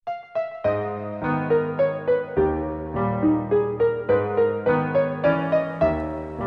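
A song from the Super Mario RPG soundtrack, a slow, gentle video game melody with soft plucked or chime-like notes over sustained chords, played steadily and clearly for over six seconds with no voices.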